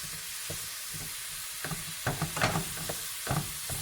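Ground beef for tacos browning in a frying pan, a steady close sizzle and hiss with a few scraping stirs partway through, no voices.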